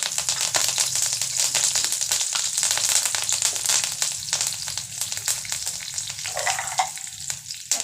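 Curry leaves and mustard seeds crackle and spatter in hot oil, a dense, loud, continuous sizzle full of sharp pops close up, with no talking.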